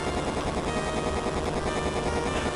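Helicopter in the Survival Kids 2 video game: a dense, steady mechanical drone with a fast pulsing rotor chop, loud and unbroken throughout with no talking.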